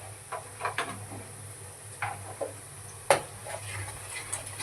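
Turmeric, garam masala and chili powder are stirred in a pan for a prawn curry, giving irregular spatula scrapes and taps over a low sizzle, with one sharper clink midway.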